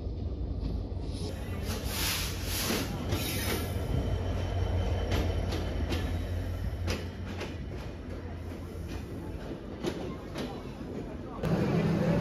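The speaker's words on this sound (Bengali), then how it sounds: "তো ট্রেন চলে আসছে কাছাকাছি" The Ruposhi Bangla Express train rumbles steadily into a station in Bangladesh with rattling wheels and metallic clanks, a faint squeal at times, and people talking nearby.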